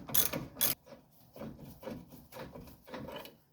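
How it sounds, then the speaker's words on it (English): A ratchet backs out a strut bolt on a 2005 Ford Explorer, giving a loud quick clicking burst followed by a run of evenly spaced ratchet strokes, close up and with no one talking. "And next we're just going to take this strut bolt out."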